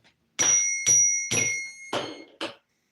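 Newly bought zen bell struck five times in quick succession, each strike a short metallic ring with a clear tone that fades quickly rather than sustaining, the last one softer, with silence between.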